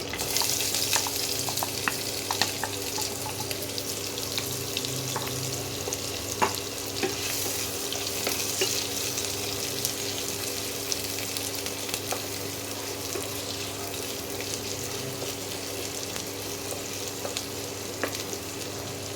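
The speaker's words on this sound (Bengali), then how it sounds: "পেঁয়াজটা একটু ভাজা ভাজা হোক" Chopped onions frying in a pan, a continuous close crackling sizzle with occasional light clicks of stirring, steady and unbroken for the whole stretch with no voices.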